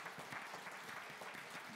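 A church congregation applauding and cheering, a steady wash of many hands clapping at moderate distance, filling the brief moment without speech.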